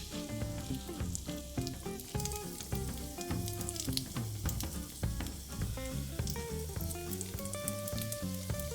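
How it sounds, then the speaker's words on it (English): Tofu triangles frying in an oiled cast iron pan, a steady close sizzle and crackle of hot oil with scattered pops, unbroken throughout with no voices. "Fry up your triangles, flipping them so they're brown on each side."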